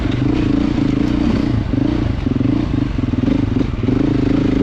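A Beta 430 dirt bike engine runs close by at a demo day, a steady loud low drone with uneven pulsing and some clattery mechanical noise throughout.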